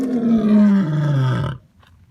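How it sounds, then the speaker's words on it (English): A lion gives one loud, close, deep roar that holds for about a second and a half, dropping in pitch before cutting off into near silence. "roaring lion."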